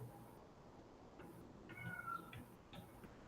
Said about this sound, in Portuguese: Minha gata tá na porta do meu quarto que ela quer entrar.